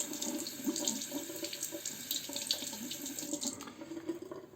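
Tap water runs steadily into a sink to rinse a Pearl slant razor, a close, soft splashing stream with small clinks and shifts, stopping near the end.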